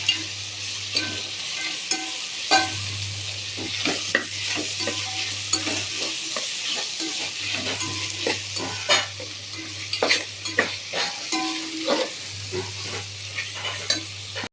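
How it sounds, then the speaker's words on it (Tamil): Carrots and beans sautéing in a pan for vegetable biryani, with a steady sizzle broken by frequent metal spatula scrapes and clinks as the vegetables are stirred, close and alone without talk. "இது கூட கேரட்டு, பீன்ஸு சேர்த்து நல்லா வதக்கி விட்டுறணும்"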